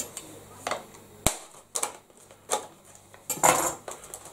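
Metal knife scraping and tapping against packaging as it pries stuck haggis slices apart, a series of sharp clicks and clatters with brief pauses, close up.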